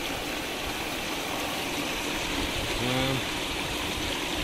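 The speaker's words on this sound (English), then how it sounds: "Some huge white water at the middle where the raised back starts and now the sluice starts." Whitewater rushing into a gold-prospecting sluice box, a loud steady roar of turbulent churning water close by, with a brief faint tonal squeak partway through.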